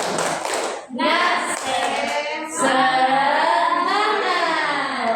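A group of people performs a tepuk semangat, a rhythmic clapping chant, with voices chanting steadily over the claps throughout at close range.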